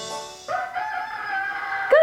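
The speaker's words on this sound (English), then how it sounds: "That's the sound of the rooster." A rooster crows nearby, a loud drawn-out cock-a-doodle-doo, with a short squawk at the end.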